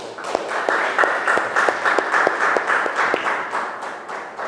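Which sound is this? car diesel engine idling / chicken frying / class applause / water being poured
class applause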